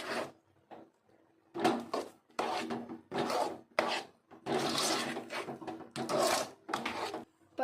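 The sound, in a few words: stirring moong dal halwa with sugar in a pan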